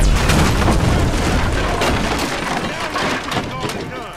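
A gas can blows up during a gunfight in GTA 5, a loud close booming blast with crackling debris that rolls on and slowly fades over several seconds.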